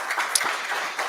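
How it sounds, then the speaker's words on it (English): Brief applause at a healthcare reception, a fairly quiet, even patter of clapping from a small crowd with one sharper tap near the middle. "Let's give Dr. Stavas a round of applause"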